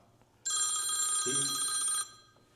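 A phone rings once with a bright electronic trill lasting about a second and a half, loud and close over a quiet room.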